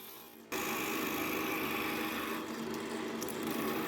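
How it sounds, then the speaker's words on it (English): A sharp bowl gouge cuts into scrap wood spinning on a lathe, a steady, loud, continuous scraping hiss with a sudden start and shavings peeling off throughout. "A nice sharp bowl gouge, just taking my time, and I'll let the shavings come off"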